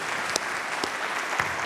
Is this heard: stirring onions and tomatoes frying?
no